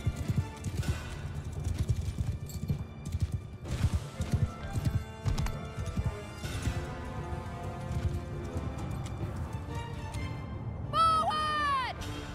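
Rapid clip-clop of many horses galloping in a Mount & Blade II: Bannerlord battle, steady hoofbeats layered with clashing noise, and a horse whinnies near the end.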